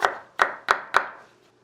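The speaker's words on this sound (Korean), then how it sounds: "팽이버섯은 1cm 정도로 자를 겁니다." Kitchen knife slicing enoki mushrooms into roughly 1 cm pieces: four crisp, sharp chops against a cutting board in a steady rhythm, close and clear, with nothing else heard.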